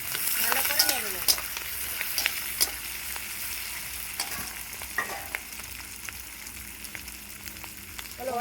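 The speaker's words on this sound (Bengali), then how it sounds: "এবার এর মধ্যে ক্যাপসিকামগুলো দিয়ে দেবো, পেঁয়াজ দিয়ে দেবো, ভালো করে নেড়ে নেব।" Capsicum and onion go into a pan with fried ginger and garlic and are stirred, producing a continuous close sizzle broken by scraping and clacking stir strokes, louder at the start and then settling.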